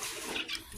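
Water splashing onto a fullface helmet visor treated with anti-fog and rain film, a short close gush and spatter lasting under a second.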